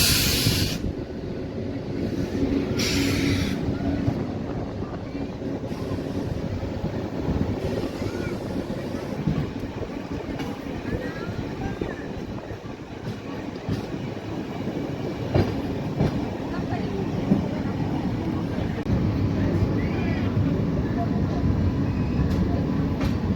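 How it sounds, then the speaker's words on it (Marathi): Yesvantpur–Latur superfast express train passing at Kamalnagar, a steady loud rumble of rail cars with clickety-clack, heard close from a moving train throughout. "superfast express crossing"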